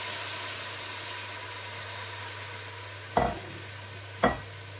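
Mashed onion and bell pepper mixture for vegetable riz gras frying gently over low heat, a steady mild sizzle with a low hum beneath and two sharp spoon knocks toward the end.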